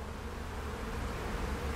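A dense, steady buzz of many bees swarms around beehives at an apiary in Chartres, a continuous close hum that fills the air without any breaks.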